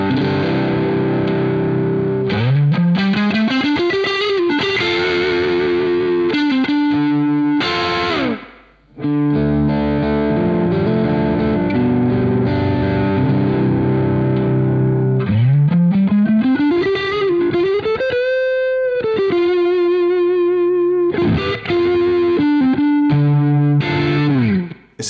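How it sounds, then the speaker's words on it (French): Heavily distorted electric guitar riffs and sustained bends with post-distortion EQ, first shaped toward bright treble and then toward heavy bass, loud and continuous with one brief gap and no talking. "de l'égalisation post-distorsion, où on va avoir dans un premier temps tous les aigus et dans un second temps toutes les basses"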